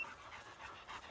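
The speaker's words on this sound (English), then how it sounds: "Old dog's done well." A young hunting dog pants in quick, rhythmic breaths on a warm day after working through cane, the huffing faint and airy against quiet outdoor background.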